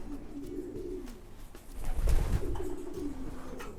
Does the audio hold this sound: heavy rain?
no